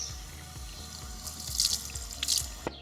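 Water splashes and trickles at a pond as someone tastes it, with close dripping and a few brighter splashing bursts over a low steady hum.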